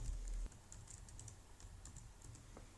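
Soft, steady keyboard typing while HTML text is entered, quiet key taps running continuously under low room hum with no talking.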